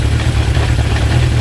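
A Honda CB750 K2 motorcycle engine idles steadily during carburettor balancing, a close, continuous low rumble with an even throbbing pulse and no voices.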